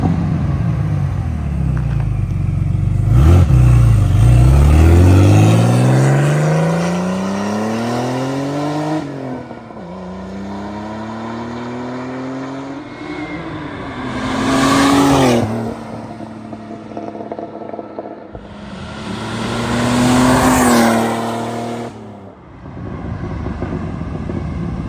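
A 1991 Porsche 964 C2 Turbo in Zermatt Silver makes several flybys: loud engine roars rise and fall as the car passes close by, with gear changes and a wind rumble between passes and no talk.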